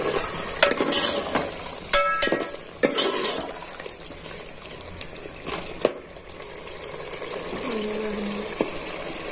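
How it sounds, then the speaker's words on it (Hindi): Chicken and potato pieces frying in a pan for a home-cooked curry, a steady loud sizzle with spoon scrapes and clinks against the pan as the mix is stirred, close up and with no voices. "तो इसको अब हम आलू को और चिकन को थोड़ा सा भून लेते हैं"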